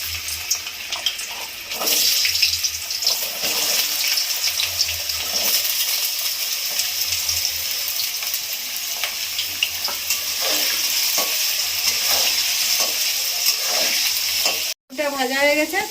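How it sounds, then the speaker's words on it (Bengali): Potatoes frying in hot oil with a little salt in a heated wok, a steady dense sizzle running throughout with occasional stirring clatter, close and fairly loud, briefly cut near the end. "এবার আমি আলুগুলো ভেজে নেব।"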